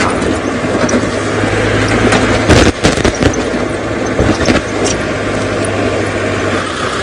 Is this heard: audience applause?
no